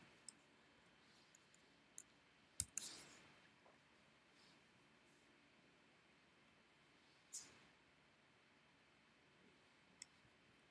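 Computer mouse clicks while selecting a keyframe in animation software, a few sharp isolated clicks spread over a quiet background.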